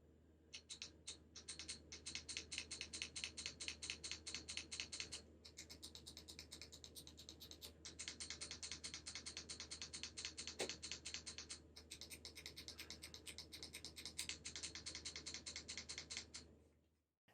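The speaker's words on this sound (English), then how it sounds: "The bumpers and triggers are super clicky and make a very audible sound when pressed." Shoulder bumpers and triggers on an Anbernic RG40XXH handheld are pressed in rapid bursts of sharp, crisp clicks, close and fairly quiet, with short pauses between runs and no one speaking.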